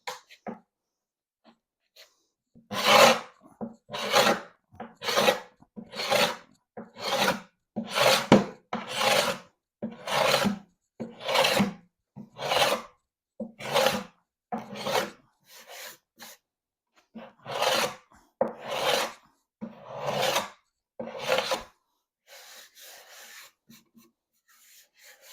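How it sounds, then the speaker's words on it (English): A carbide scraper pulls finish off antique wooden furniture in a long series of rhythmic rasping strokes, close and fairly loud, each scrape separated by brief pauses. "So we're going to try the carbide scraper method and see if this helps."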